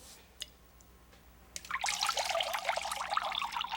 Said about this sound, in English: Don't move, because I'm gonna pour the water in.